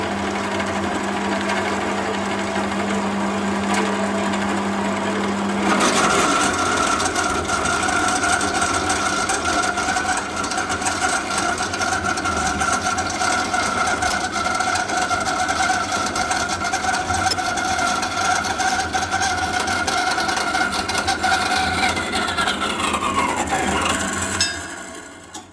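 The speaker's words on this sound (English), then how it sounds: "So we'll whiz over to the chop saw and we'll cut these bolts up." Chop saw cutting through ARP head stud bolts for a Ford Barra engine: a sharp start, then a sustained, loud high-pitched grinding whine for about eighteen seconds that spins down and stops.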